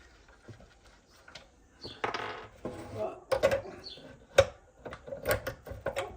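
A 13 mm wrench works the bar nut off a Husqvarna Rancher 450 chainsaw, producing close, quiet metallic clinks and small scraping taps in an irregular sequence, a few brighter pings standing out.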